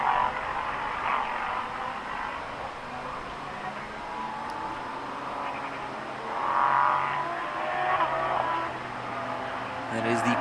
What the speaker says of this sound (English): Antalgigo in the predominantly white M4 GT3 BMW.